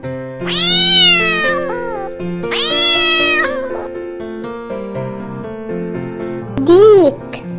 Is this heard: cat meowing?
yes